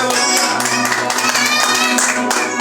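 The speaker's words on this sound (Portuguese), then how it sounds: "Dá uma salva de palmas, ele merece, ele merece, ele merece." A church congregation clapping during worship, with loud rhythmic applause over sustained music and singing voices.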